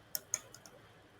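A computer mouse clicks while a PowerPoint slide is being edited: two crisp, quiet clicks close together, then two fainter ones, in an otherwise hushed room.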